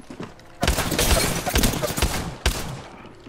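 Flatline assault rifle gunfire in the Apex Legends video game, heard as several sharp, loud bursts of rapid shots spread over a few seconds, with quieter gaps between them.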